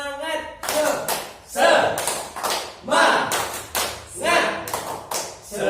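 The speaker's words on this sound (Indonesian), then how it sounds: "Tepuk semangat." A group claps a rhythmic spirit-clap pattern at a 2020 social-work training session in Yogyakarta, with loud, evenly spaced bursts of clapping repeating close by and voices mixed in.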